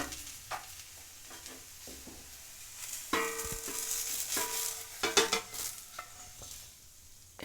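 A dosa cooks on a pan as it is turned and scraped, with soft sizzling under close scraping and tapping strokes that grow busier partway through.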